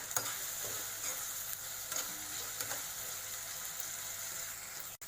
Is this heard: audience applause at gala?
no